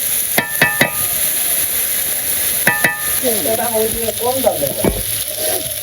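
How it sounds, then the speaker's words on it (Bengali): Turmeric, dried and green chillies and sugar fry in a pan with a loud, close sizzle. Sharp metal spatula knocks come in quick pairs, and a faint voice murmurs in the background. "সব কিছু দিয়ে দিছি হলুদ মরিচ শুকনো মরিচ কাঁচা মরিচ চিনি রান্নার মতো ভেজে নিই"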